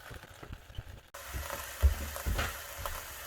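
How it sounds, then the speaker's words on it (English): Beef tongue sears in oil in a Dutch oven, a faint, steady sizzle with soft crackles. A small bump or shift partway through makes the sizzle a little louder. "The very first thing that we want to do is get a little sear on our beef tongue."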